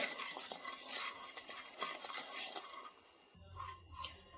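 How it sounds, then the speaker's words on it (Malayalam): A spoon stirs and scrapes 3 spoons of sugar in a pan as it turns to caramel, a busy run of close metallic scraping and clinking strokes, then a lower frying sizzle near the end. "ഒരു പാനിലേക്ക് പഞ്ചസാര ഇട്ട് കൊടുക്കാം"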